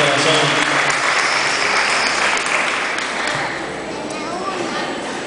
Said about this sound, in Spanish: que se escuche un fuerte aplauso